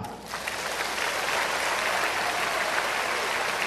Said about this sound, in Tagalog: Ako ang gustong gumaling, pumalakpak.